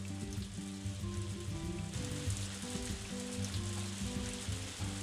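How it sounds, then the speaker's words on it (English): Steady rain pouring all day in the farming game Story of Seasons: A Wonderful Life, a dense, continuous hiss over a layer of soft in-game background music, even and moderately loud throughout. "Rain again. All day."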